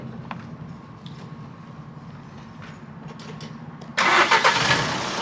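A Cadillac taxi's engine cranks and fires up near the end, a sudden loud roar breaking a quiet low background hum, with no talking.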